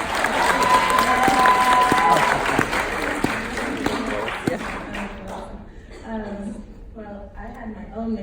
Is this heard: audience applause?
yes